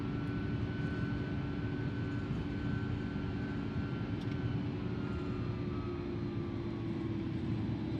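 A steady, loud aircraft engine drone from a flight simulator game, holding an even broadband roar with a faint rising whine as the plane runs up for takeoff on the runway, alone with no talk.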